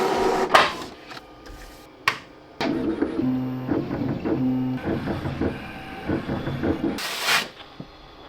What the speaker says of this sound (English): We're going to print the label first using a standard inkjet printer, then let the H2 printer cut the design.